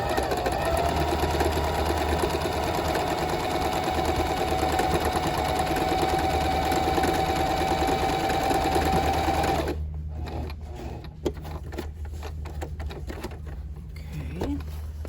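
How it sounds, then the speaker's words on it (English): Sewing machine stitching the corners of a fabric bag, a steady close whir running continuously for about ten seconds, then stopping to leave quieter handling noises. "And then we're going to sew this."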